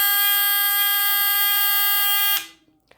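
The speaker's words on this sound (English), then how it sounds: "the ferrule signal strobe flashes and the buzzer sounds" A Federal Signal fire alarm buzzer on a DIY demo board blares a loud, steady, harsh tone up close for over two seconds, then cuts off abruptly, leaving only faint room noise.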